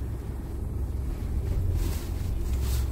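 Low, steady engine rumble from a large off-road camper truck built on a big truck chassis as it reverses, with a gusty, wind-like wash over the top and no talking.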